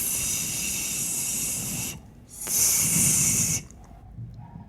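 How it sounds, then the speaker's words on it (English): A snake hisses in two long, loud bursts separated by a short pause, then falls quiet. "it's a snake"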